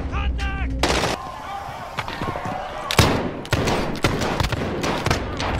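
Gunfire in Call of Duty: Warzone, a handful of sharp close shots and short bursts spaced irregularly across a few seconds, mixed with other game sounds and a voice talking.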